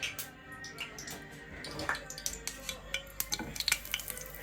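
Oil sizzles and pops steadily in a pan as a chicken Kiev cutlet fries, with sharp crackles and spits and occasional clinks of a utensil against the pan.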